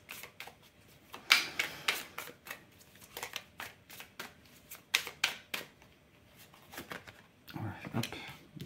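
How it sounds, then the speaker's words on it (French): A deck of tarot cards is shuffled in quick, crisp riffling bursts close to the microphone, over and between steady French talk from the person handling them. "Pourtant, Dieu sait que le jeu a été brassé."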